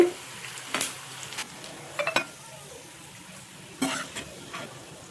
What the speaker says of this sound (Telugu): ఇలా నూనెలో బ్రౌన్ షేడ్ వచ్చే వరకు వేపుకోవాలండి.